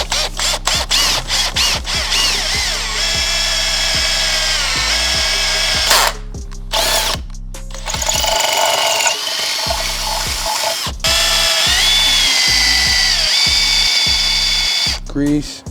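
A power drill bores through the gearbox casing of a Nissan Skyline R34, whining loudly in repeated bursts with brief pauses between runs, close up and dominant throughout.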